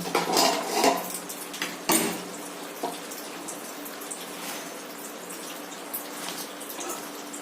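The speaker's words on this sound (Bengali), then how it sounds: "ঢাকনাটা আমি খুলে নিচ্ছি, আলুগুলো সেদ্ধ হয়েছে কিনা এবার একটু দেখে নেব।" A pot lid lifted off a pan of potatoes boiling for sojne data aloo posto gives a few clinking metallic knocks near the start, then light bubbling and watery clatter continues quietly.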